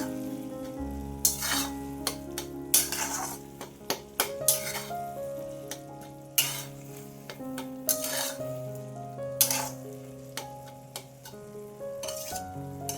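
A spoon stirs sour-sweet tomato bhaji with freshly chopped coriander in a pan, giving soft scraping and sizzling strokes in an uneven rhythm, close up, while music plays steadily underneath.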